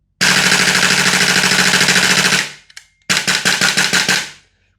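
An Airtac HYP-9 MWS airsoft HPA receiver fires on full auto in two loud, close bursts: a rapid continuous rattle of about two seconds, a short gap with a few stray shots, then a second burst of evenly spaced shots.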